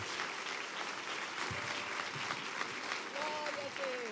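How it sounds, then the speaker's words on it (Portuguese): Church congregation clapping together in praise, a steady, even wash of applause filling the room, with faint voices mixed underneath. "Vamos aplaudir ao Senhor."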